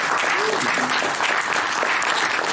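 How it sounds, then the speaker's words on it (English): Applause from the audience at a Rise of Furry Music panel at ANE 2024, given for the panel guests: loud, dense clapping that holds steady for the whole stretch, with a brief voice sounding early on. "can we give everyone at Blackmajic, Jayla and Pseudo, a big round of applause for being here"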